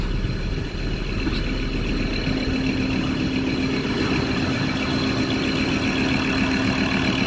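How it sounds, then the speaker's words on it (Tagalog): A Ford Ranger 3.2 engine, restarted after a battery reset and limp-mode fault, runs steadily at idle with a slight knock, a continuous close hum with a faint whine throughout, no talking. "So muling nabuhay na guys yung engine"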